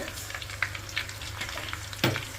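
Cut vegetables for Kerala-style avial frying in a pan as they are stirred, a close sizzle with repeated spatula scrapes and one sharp clack near the end.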